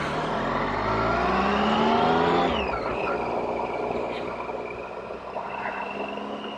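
A motorcycle rides along a country road near a village, its engine droning loudly and steadily with a pitch that rises and then drops as it shifts, with wind rush throughout and no talking.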